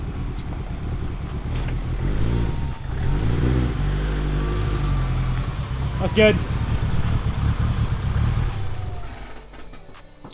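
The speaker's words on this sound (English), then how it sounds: "I just want to listen to this turbo. It's so loud." A Mitsubishi Evo X turbo engine revs loudly, its deep, rising engine roar continuing throughout while people talk over it.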